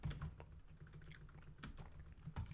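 Soft, steady typing on a computer keyboard with quick irregular key clicks, heard close but quiet, with no talking.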